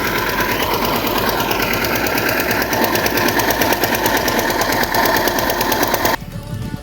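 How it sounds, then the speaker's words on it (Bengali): An engine-driven machine runs in a field with a steady, loud, rhythmic knocking chug that holds for about six seconds before dropping away abruptly near the end. "হ্যালো গাইস, দেখুন আমরা মেশিন চালু করে দিয়েছি। এই যে মেশিন চলছে এখন।"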